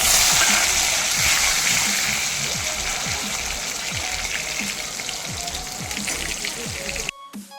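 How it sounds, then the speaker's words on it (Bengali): Chopped tomatoes frying in hot mustard oil in a wok, a steady dense sizzle with scattered popping and crackling throughout, ending abruptly near the close. "এরপর ওই তেলে কেটে রাখা টমেটোগুলো ভেজে নিচ্ছি।"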